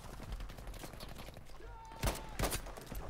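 Two sharp gunfire cracks from a World War II rifle in the shooter game Battlefield 5, fired close together around the two-second mark over a steady background of game ambience and low rumble.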